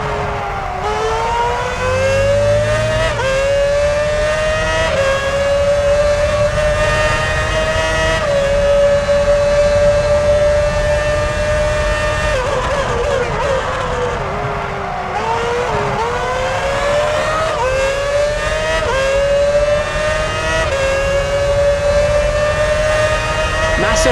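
Formula One cars racing at the Malaysian circuit in F1 2006 on PS3, their high-pitched engines whining loudly and sliding up and down in pitch as they accelerate, shift and pass, with a voice at times over the roar.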